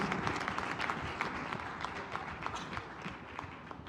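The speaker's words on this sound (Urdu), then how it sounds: "زور کر تالیاں بجائیے جناب کے لیے" A church congregation at a Sunday meeting claps loudly together, dense continuous applause with crisp individual hand strikes throughout.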